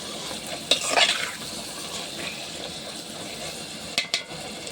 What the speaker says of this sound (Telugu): కూర అంతా సెట్ అయిపోయేలాగా మిక్స్ చేసుకోండి